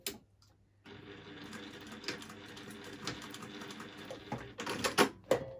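A Juki sewing machine stitching a fabric face mask in a workshop, quiet runs of rapid mechanical ticking with a few louder clicks and knocks toward the end.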